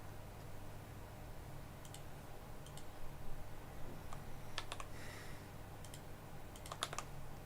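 Keys clatter on a computer keyboard in short irregular bursts of quick clicks, fairly close, over a steady low background hum.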